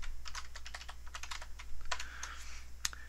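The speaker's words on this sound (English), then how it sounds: "So what I'll do is I'll type insert wedding," Someone types on a computer keyboard, with a quick close run of crisp key clicks that ends in a sharper tap, and no voice is heard.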